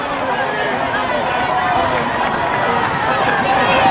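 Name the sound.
crowd cheering Mark Cavendish at Tour of Britain stage finish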